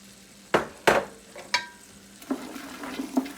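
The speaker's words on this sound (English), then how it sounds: "The onions have cooked for a little bit, so next I'm adding the pepper mixture." A pepper mixture hits onions already cooking in a pot, giving several sharp sizzling bursts, each fading quickly, then quieter crackling and stirring scrapes at close range.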